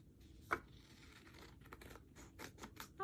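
Scissors snipping through paper for a collage, a few close, crisp cuts and rustles with a sharp snip near the start and more toward the end, no talking.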